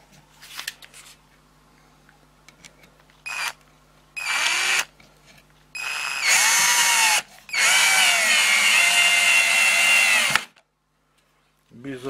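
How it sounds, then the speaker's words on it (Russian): A cordless DRA-12/R drill-driver drives small screws in several whirring bursts of different lengths, separated by pauses, loud and close with no one talking. "Попробуем пару винтов шурупов затянуть."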